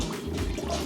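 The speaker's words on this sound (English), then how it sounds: "Then we add the 2 cups of water" Two cups of water poured into a cooking pot on the stove for chicken curry, a short, close, continuous splash and gurgle of liquid filling the pot.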